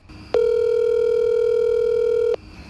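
A steady telephone dial tone in a WWE2K18 wrestling video game show, one loud unbroken electronic hum lasting about two seconds and then cutting off cleanly, with no talk.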